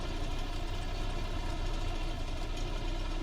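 A half-track vehicle driving out of base in the war game Foxhole, its engine a loud, continuous low rumble with steady knocking texture, unbroken throughout.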